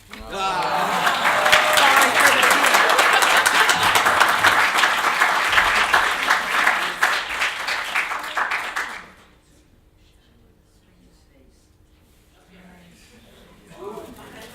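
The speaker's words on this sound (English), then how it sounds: "Let's give him one more round of applause" Audience applause at a college summit event fills the first nine seconds, loud and dense, then stops abruptly into near silence with a faint stir at the end.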